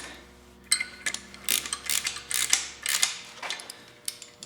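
A fastener is tightened on a Porsche 356 engine, producing a run of close, sharp ratcheting clicks and metallic ticks in quick uneven bursts. A low hum drops away partway through.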